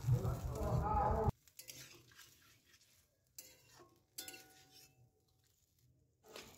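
Cooked vegetables are stirred with spices in a pan for a vegetarian dish. A voice talks briefly at the start, then soft spoon scrapes and faint clinks come in short, scattered bursts against near silence.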